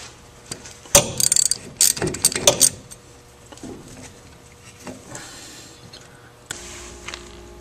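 Ratchet wrench turning a bolt on a C2/C3 Corvette trailing arm, with bursts of rapid clicking ratchet strokes early on, then quieter scattered clicks and clunks in a workshop.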